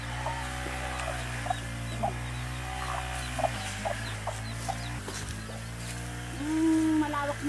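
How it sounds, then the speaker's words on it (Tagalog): Chicks cheep in repeated short high calls over a steady background hum, with a few louder clucks from adult fowl nearby. "Ito yung mga sisiw, oh."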